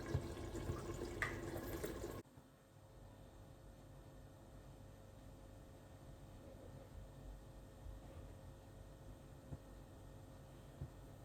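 Water is poured into a pot of cooking plain rice pilaf (pulao), a brief, fairly loud splashing pour lasting about two seconds, then a low, steady simmering hiss continues alone.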